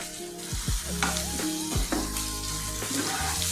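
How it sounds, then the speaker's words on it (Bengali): Onion, prawns and garlic fry in a pan for prawn pulao, giving a dense, continuous close sizzle with a few scraping stirs of a utensil, with no talking. "এই যে পেঁয়াজ, চিংড়ি, রসুন সব সুন্দর করে ভাজা হয়েছে।"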